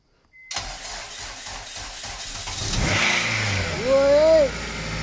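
A K-swapped Honda Jazz engine cranks and catches after a moment of silence, settling into a rough run before the revs climb with a rising whine.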